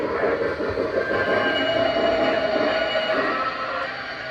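A Lionel Legacy L1 model locomotive rolls along the track at slow speed, giving a steady, close mechanical rumble and whirr with a faint high squeal, continuous throughout.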